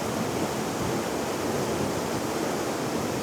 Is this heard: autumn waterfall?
yes